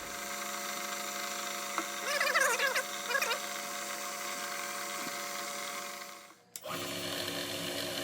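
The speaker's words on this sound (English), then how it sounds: "So here again, I'm drilling the tap hole all the way through." A small drill bores a tap hole through a brass model engine crankcase, a steady whining motor hum with a brief higher chattering burst as the bit cuts, then the motor spins down and stops.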